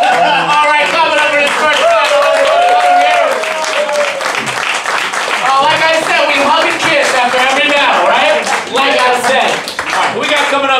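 Audience at a live rap battle show in New York keeps up steady clapping and applause, dense and close, running under a loud host's voice and crowd chatter.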